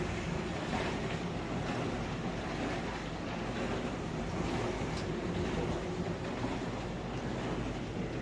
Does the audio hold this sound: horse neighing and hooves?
no